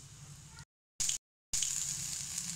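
Cumin seeds and asafoetida crackle in hot mustard oil in a pan, a steady bright hissing sizzle broken twice by brief dropouts, close and fairly loud with no voices.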